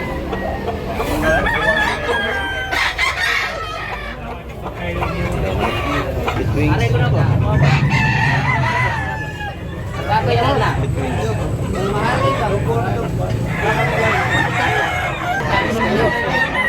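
Roosters crowing repeatedly and hens clucking at a busy chicken market in Tabunok, Cebu, loud and close, with steady crowd chatter and someone talking throughout.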